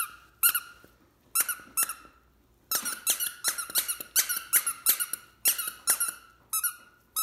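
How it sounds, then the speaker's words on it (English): A husky plays with a squeaky toy, producing sharp, loud, close squeaks in irregular bursts, some single and some in quick runs, with short pauses between them. "Love squeaky toys."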